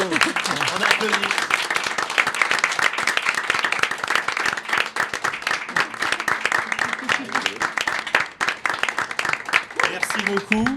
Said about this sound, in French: mais d'habitude, vous applaudissez